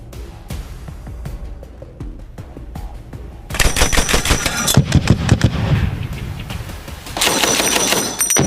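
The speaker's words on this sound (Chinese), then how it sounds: "此次射击要连射5发榴弹" A grenade launcher fired by special forces at a target range, five rounds in rapid succession, each loud report followed by sustained booming blasts from the impacts, close and loud with no talk.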